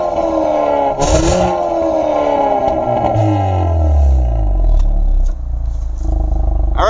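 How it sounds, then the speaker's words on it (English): Exhaust of a 2022 Hyundai Veloster N with DCT gearbox in regular mode, revved from idle into loud rising and falling roars, then settling back to a low burble, heard close up with no voices. "I'm going to let you hear the exhaust."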